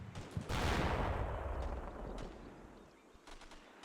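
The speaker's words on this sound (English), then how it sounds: "there's mortars everywhere" Mortar fire in the wargame PVP Persian Predicament: a single deep, booming impact with a long rumbling decay, quiet and distant-sounding, followed by faint scattered smaller reports.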